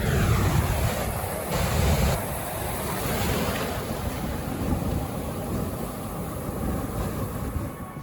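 Strong surf pounding near rocks on an Australian shore, a continuous loud wash of breaking waves with gusty wind noise across the microphone.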